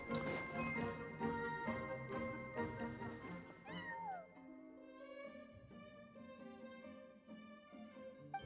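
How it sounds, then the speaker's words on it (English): A cat meows in the Genshin Impact video game, with a few rising and falling mewing calls over a bright, layered game music score that plays throughout. "Finally, I can pet the cat."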